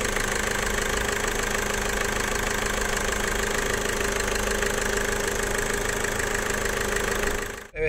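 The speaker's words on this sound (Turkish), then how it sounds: "Marşa basmış olduk. Bir aracımız toparlasın." A car engine idles steadily and loudly at close range with an even, continuous rumble, then cuts off abruptly at the very end.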